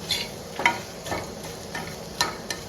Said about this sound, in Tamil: போட வேண்டியது எல்லாத்தையும் போட்டாச்சு. நல்லா வறுபடட்டும்.